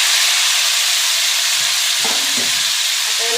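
Paste of onion, garlic and tomato sizzles steadily in a hot pan on a gas flame for a potato and capsicum sabji, with a loud continuous hiss and a few soft stirring scrapes, no voices.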